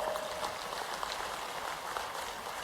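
A rally crowd claps for Chief Minister Mohan Yadav in Sonkatch. The applause is faint and distant, a soft, steady patter with no voices over it.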